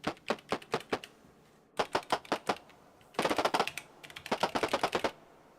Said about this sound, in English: This kick and the snare are both sounds that I synthesized in the Digitakt.